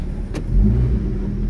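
A 1988 Honda Civic DX automatic pulling away, a low steady engine rumble swelling slightly as it accelerates, heard from inside the car for a brief moment.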